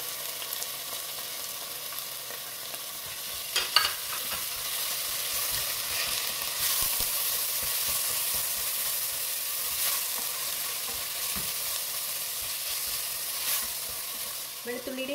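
Green chili, ginger, garlic and crushed small onions frying in a pan while being stirred, a continuous soft sizzle with repeated scraping strokes and a couple of sharper clinks, no talking.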